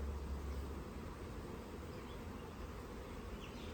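Dense, steady buzzing of many bees swarming close by, continuous and unbroken throughout with no voices.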